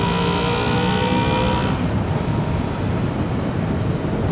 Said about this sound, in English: here's a little bit of VTEC.